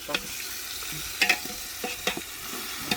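Raw mutton frying in garam masala while being stirred, a faint steady sizzle broken by several sharp scraping strokes of the spoon against the pan, no talking.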